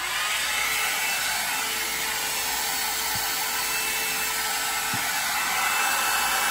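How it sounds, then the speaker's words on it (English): A heat gun blows a steady, loud whooshing hiss as it softens resin on a birch-wood painting panel, with a couple of faint clicks. "I'm going to use my heat gun now"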